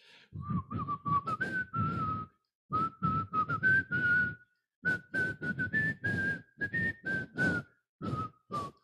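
A person whistles a lively tune in clear, close phrases, the melody rising and falling with short pauses between bursts of notes.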